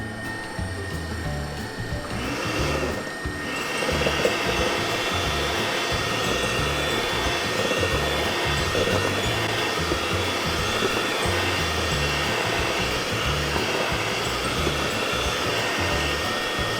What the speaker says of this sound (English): and my remaining sugar using my hand mixer